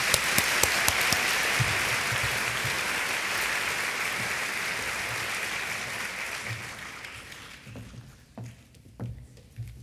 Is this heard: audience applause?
yes